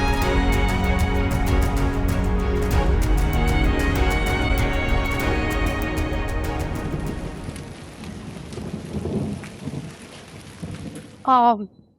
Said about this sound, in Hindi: भाई बाहर बहुत तेज बारिश हो रही है